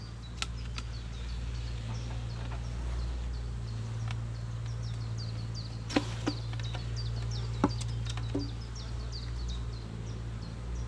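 Low steady buzzing hum of honeybees in a hive, continuous and close, with a few faint clicks and knocks over the drone.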